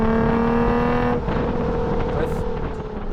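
A Nissan 350Z engine at full throttle through the gears: a loud, close, continuous roar with one gearshift break, then the revs build again, with wind rush.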